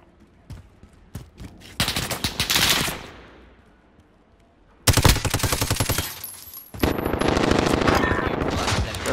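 A Bizon submachine gun fires in a video game: a few separate shots, then two long, loud, rapid automatic bursts with a short quiet gap between them.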